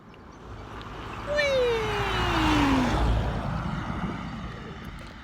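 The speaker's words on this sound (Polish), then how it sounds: "Jedzie samochód." A car passes along a rural road, its engine swelling and then fading with a falling pitch as it drives by at moderate distance, heard on its own outdoors.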